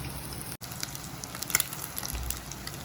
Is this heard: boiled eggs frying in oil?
yes